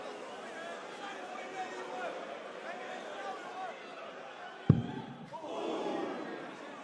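The darts audience at the 2023 Dutch Darts Championship keeps up a steady hubbub under commentators talking, then a sharp thud is followed by a swell of cheering.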